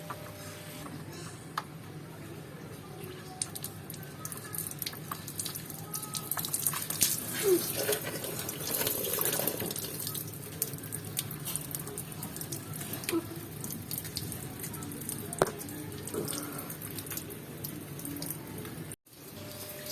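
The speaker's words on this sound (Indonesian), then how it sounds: "Kalau saya bersihkan dengan air keran" Steady running tap water splashing continuously while rinsing out a radiator, a constant wet hiss with occasional small clicks.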